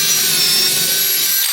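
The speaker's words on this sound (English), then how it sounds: "Drill all 4." A hand drill bores holes into a wooden workbench, making a continuous, close, raspy grinding of the bit cutting wood, steady and unbroken, with no voices.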